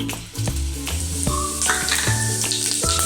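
Cumin seeds sizzle and crackle in hot oil, a steady frying hiss broken by a few clinks of a spoon against the pan.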